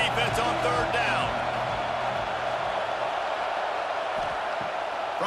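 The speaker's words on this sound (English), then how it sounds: "Decibels rising as the crowd gets behind this defense on third down." A loud, steady stadium crowd roar swells and holds through a third-down defensive stand in College Football 26, North Carolina against Nebraska, with faint whoops rising out of the dense wash of noise.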